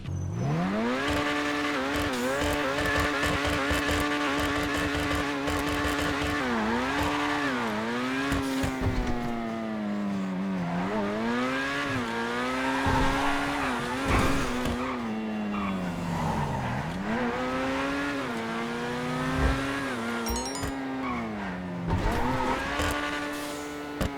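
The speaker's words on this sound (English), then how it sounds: "we of course have to do a sound test, so let's take a listen to the Grotti Itali GTO" Grotti Itali GTO sports car in GTA Online, engine revving up and down through repeated gear changes with climbing and falling pitch, loud and close, with tire squeals and skidding mixed in and no talk.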